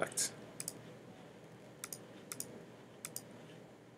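Several sharp computer mouse clicks, single and in quick pairs, spaced irregularly over a faint background hum while someone works through a word cloud art program.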